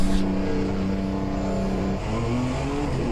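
A Group C sportscar from a racing video game pulls out of the pit lane at Daytona's road course on cold tyres and a full tank. The engine holds a loud, steady hum that shifts pitch partway through.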